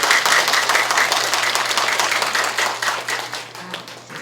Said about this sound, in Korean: 마음껏 박수 쳐주세요